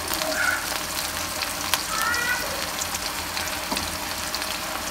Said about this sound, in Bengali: এবার পেঁয়াজটাকে সুন্দর করে একটু ভেজে নিবে, হালকা লাল মিক্সে করে।